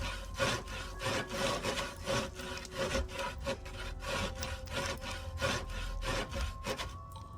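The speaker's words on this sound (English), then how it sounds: "sawing is quite a loud thing, in my opinion. Sawing is very loud." Wood being sawn in the game Wurm Online: a loud, close run of rhythmic back-and-forth rasping strokes, about a dozen regular pulses, steady and uninterrupted, with no voices over it.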